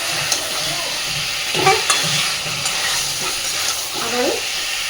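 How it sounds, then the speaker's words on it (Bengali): Potatoes and beef fat being stirred and sautéed together in a pan, a steady low sizzle with occasional scrapes and clinks of the spoon against the pan, close and moderately loud with no talking. "আবারও খুব ভালো করে সব কিছু কষিয়ে নিয়েছি।"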